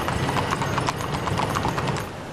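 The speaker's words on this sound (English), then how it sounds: "with horses leading the way" Horses' hooves clip-clop steadily in a soldier's funeral procession, a dense, continuous rhythm of many hoofbeats at moderate distance with no talk.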